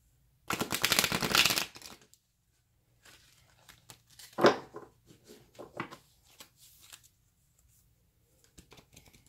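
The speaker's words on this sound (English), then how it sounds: "Get one quick shuffle here." A quick burst of tarot cards being shuffled, a dense papery riffle lasting about a second, followed by softer scattered card handling and tapping.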